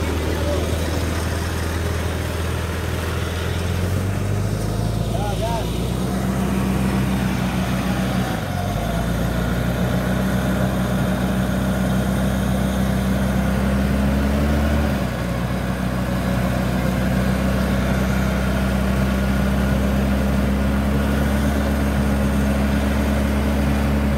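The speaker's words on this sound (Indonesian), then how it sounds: "Tarik winchnya." An off-road vehicle idles steadily while its winch takes up tension during off-road training in Medan, North Sumatra, with a continuous low engine drone and brief pitch shifts as the load changes. People talk over it throughout.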